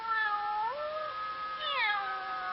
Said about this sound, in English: the cute little kittens in his own house